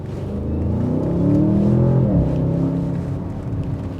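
An Audi S8 accelerating hard in dynamic sport mode, its engine note rising steadily in pitch and loudness, then easing slightly as it holds speed, heard close and alone.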